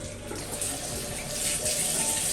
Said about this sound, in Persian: کل موها رو خیس میکنم، با آب ولر کامل کله مانکنم رو نمدارش میکنم.